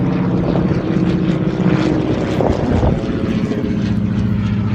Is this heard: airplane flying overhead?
yes